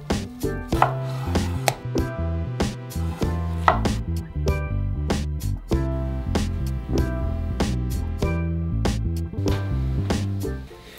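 A pineapple is cut with a smaller knife, giving quick rhythmic strikes and thuds against the board over a steady tonal background, without speech.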